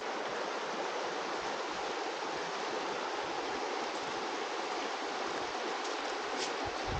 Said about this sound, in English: We're coming up along War Woman Creek.